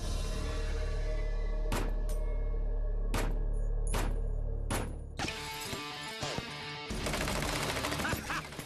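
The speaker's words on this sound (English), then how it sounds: "chomping at the bit to test out an authentic Tommy gun" An authentic Tommy gun fires from a 50-round drum, first several sharp separated shots, then a dense rattling burst of automatic fire, loud and close.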